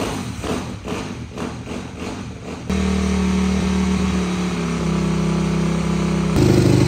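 A Yamaha YZ250F dirt bike engine sputters to life after a few uneven attempts, then settles into a steady, buzzing idle that rises slightly at the end.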